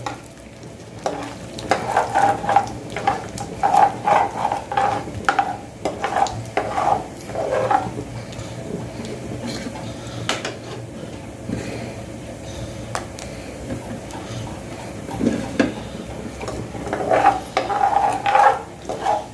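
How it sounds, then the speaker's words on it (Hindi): Fenugreek and mustard seeds crackling in hot oil for a tadka for sarson ka saag, close sizzling punctuated by bursts of popping and spoon scrapes against the pan. "और 1/4 चम्मच मेथी, ये डाल दिया है। अब ये थोड़ा तड़क जाए"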